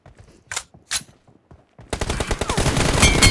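Gunfire from a mobile shooter game opens with a few sharp isolated shots, then breaks into sustained rapid automatic fire, loud and close, continuing to the end without any voices.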